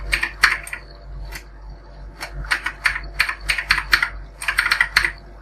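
Fingers tap on a computer keyboard in quick, uneven bursts of crisp clicks, close and clear, with short pauses between runs of keystrokes.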